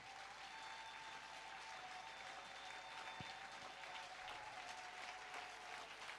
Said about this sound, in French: Est-ce qu'on peut acclamer pour le Seigneur, s'il vous plaît?